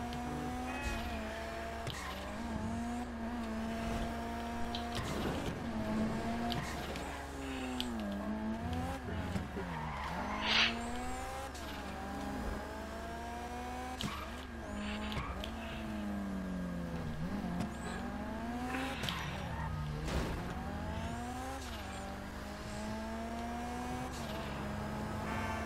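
In GTA V Online a car engine revs and surges repeatedly as it accelerates and drops back, with tires squealing and skidding through several sharp turns, loud and continuous throughout.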